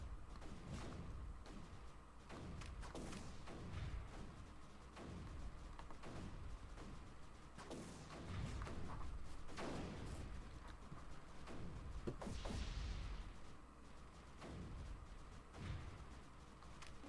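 Repeated cannon shots in the strategy game Creeper World 3: Arc Eternal, a steady run of sharp, fairly loud bursts and thumps every second or so over a constant low game hum, with no talking.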